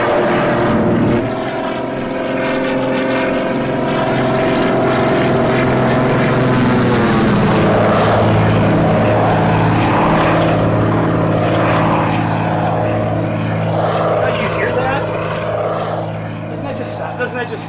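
The steady, droning propeller and radial engine roar of a Thranda DHC-2 Beaver in a flight simulator, loud and continuous with slow shifts in pitch as power changes, with no speech.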